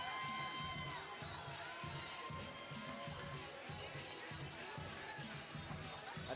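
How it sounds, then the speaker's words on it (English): A crowd at a women's fight event cheers and screams as a fighter is introduced, a dense, steady wall of voices with high-pitched shrieks over a rhythmic thumping beat, loud and continuous throughout. "got the ladies screaming for him"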